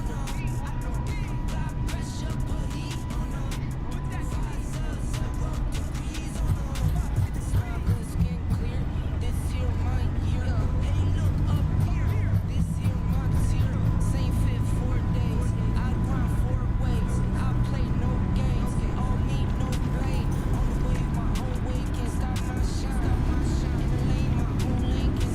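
American Airlines airliner engines spool up to full throttle for takeoff in MSFS 2020, a loud, steady low roar that holds for the whole stretch with a faint whine above it.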